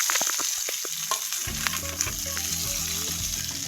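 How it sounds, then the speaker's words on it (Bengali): Fried potatoes and gourd stems are tossed into a hot pan with fried cumin and stirred. A steady, close sizzle of frying runs under scraping and stirring clicks, with no talking. "ভেজে রাখা আলু আর ডাঁটাগুলো দিয়ে এখন মাখিয়ে নিচ্ছি।"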